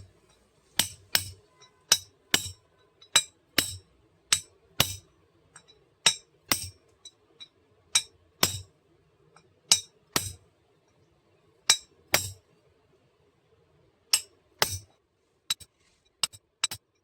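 Hammer striking a punch to drive a bearing into a new demolition hammer gearbox during a KP-310 overhaul, sharp metallic clinks in irregular bursts of two or three blows with short pauses, close and clear with no voices.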